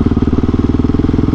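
A Husqvarna 701 motorcycle ridden close up, its single-cylinder engine throbbing in a fast, even pulse that stays loud and steady throughout, with no voices.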